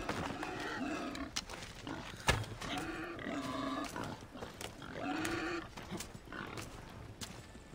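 Wild boars in the video game Assassin's Creed Odyssey grunt and squeal in a rough, overlapping series of calls, with a sharp thud partway through, loud and close throughout.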